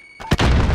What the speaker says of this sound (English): Look, frag out.